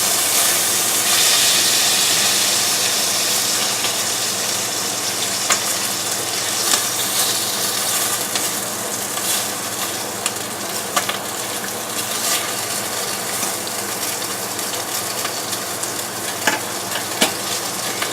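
Bacon and eggs fry in a pan with a steady, loud, close sizzle that hisses continuously, broken by occasional small pops and spits throughout.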